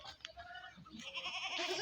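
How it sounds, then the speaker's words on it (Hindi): A milking goat being shown for sale bleats in a short, wavering call up close, with livestock stirring and faint background noise around it. "ये वाली बकरी"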